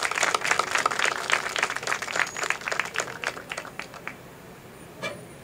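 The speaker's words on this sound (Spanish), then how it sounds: "Un fuerte aplauso, por favor." Applause from a crowd of supporters at a political event for an ecoterminal project, dense clapping that thins out and fades after about four seconds, with a brief last burst near the end.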